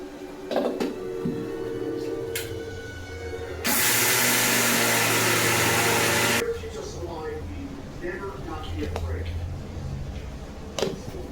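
An electric mixer grinder whirs loudly for about three seconds as it grinds soaked, dried rice into flour, starting and stopping abruptly, with someone talking and kitchen handling sounds before and after.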